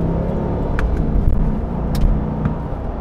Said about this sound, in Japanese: 踏み込むと V8 の音が このように響くということですね